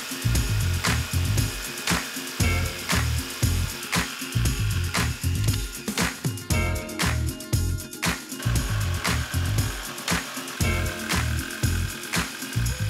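A power tool cuts a capsule-shaped wooden tabletop for a DIY table, its motor whining in short rhythmic bursts with brief pauses between passes, close and steady throughout.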